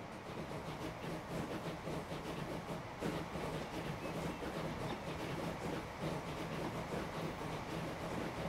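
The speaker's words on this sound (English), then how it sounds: "There's our international train again." Train running in the Transport Fever video game on a UK and Ireland map, a steady continuous rumble with rhythmic rail clatter, fairly loud and without speech throughout.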